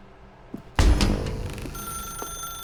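An old-style telephone bell in The Stanley Parable: Ultra Deluxe bursts into a loud, close metallic ring after a quiet moment, the ringing decaying and sustaining with a steady bright tone underneath.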